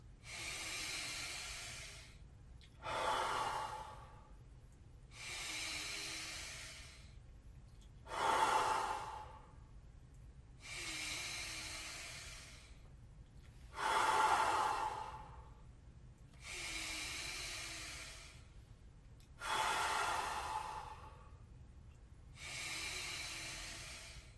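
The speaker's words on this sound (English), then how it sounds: "All the way out. Breathe in. Let go. No force." Guided Wim Hof breathwork session in Atlanta: deep breaths taken close to the microphone, alternating inhales and exhales in a steady rhythm of about nine cycles, each a long airy rush, with no talking.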